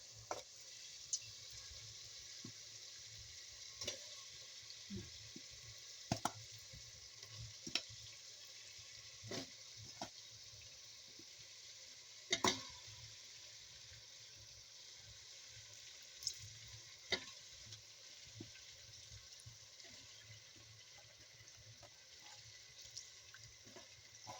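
Chicken frying in tomato paste, a soft continuous sizzle with scattered sharp clicks and scrapes of stirring, fairly quiet and close, with no talking.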